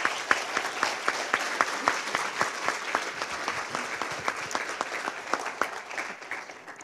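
Audience applause after a panel Q&A session at a drug-use conference, a steady wash of many hands clapping throughout, fairly close and even in loudness with no talk over it.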